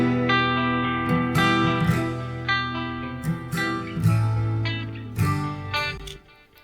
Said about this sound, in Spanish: La guitarra clean suena así en el contexto.